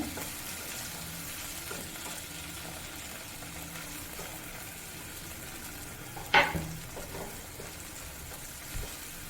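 Tomato being sautéed with onions in a pan for field-bean masala, a faint steady sizzle broken by one sharp scrape of the spoon, with quiet stirring after it and no speech.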